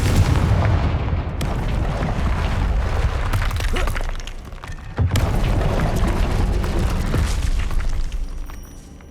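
Confringo fire spell explosions in Hogwarts Legacy gameplay, with loud booming blasts and crackling debris over a continuous rumbling battle background, including a sharp hit midway.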